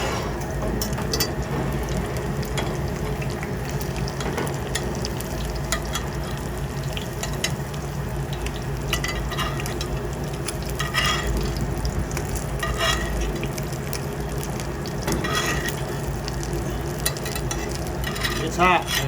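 Beef short ribs frying and sizzling in a hot cast iron pan while being basted, a steady dense crackle and hiss with intermittent spoon scrapes and clinks, close and continuous throughout.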